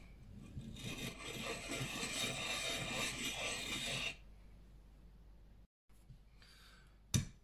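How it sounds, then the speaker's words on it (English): A knife blade drawn steadily across a sharpening stone, a continuous gritty rasping that runs for about four seconds up close, then quiet with a short scrape near the end. "once you've finished sharpening with the stone"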